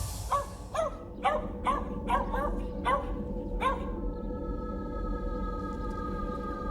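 A small pet dog named Fizo barks in a string of sharp, repeated yaps while fighting a snake to the death near an African lake, the barks loud and close over a steady background rumble, then fading into a sustained tonal hum.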